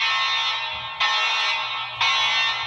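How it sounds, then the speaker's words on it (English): Fire alarm in an apartment building blaring loud, harsh electronic tones in repeating pulses, each restarting about once a second, with nothing else heard. "Jarring fire alarms isn't Philip Williams' first choice for a wake-up call."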